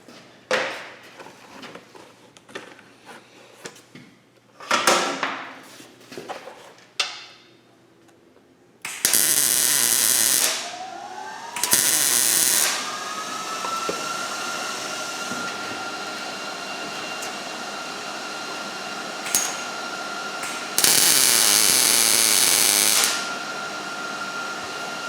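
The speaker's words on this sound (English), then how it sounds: "I think we'll just put a couple tacks on it, just simply because we have the welder out here" A welder puts a couple of tack welds on an exhaust pipe during a repair. Several short, loud crackling bursts stand out over quieter clanks, and a steady hum runs between them.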